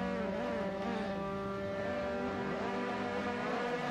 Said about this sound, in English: as the guys rev their engines